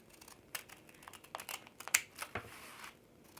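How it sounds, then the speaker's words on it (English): Excess paper is trimmed off a handmade gift card holder in a few soft, close crinkles, snips and scrapes, scattered irregularly and faint. "So first, I'm just going to go ahead and trim all this off."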